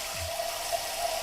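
Water runs steadily into a pot of soup stock in a home kitchen, a brief, even rushing sound at moderate volume with no voices.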